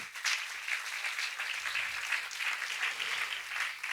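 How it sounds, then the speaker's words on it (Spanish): A church congregation applauds steadily, a dense wash of clapping hands that holds for several seconds without speech. "¿Cuánto le dan un aplauso a Jesús?"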